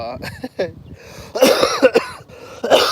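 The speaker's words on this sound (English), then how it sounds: "I end up with an infection that keep on making me cough" Harsh, repeated coughing from one person nearby with an infection, several rough bursts with strained throat sounds between them.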